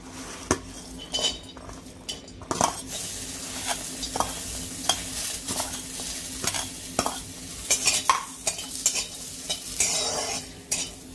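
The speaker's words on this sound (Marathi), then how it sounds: "आता खोबरं भाजून घेणार आहे।" Grated coconut roasts in red oil in a pan for stuffed brinjal masala, with a soft continuous sizzle under repeated scraping strokes and clinks of a spoon against the pan, close by and with no talking.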